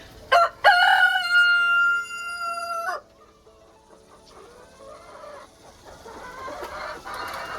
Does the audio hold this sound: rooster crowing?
yes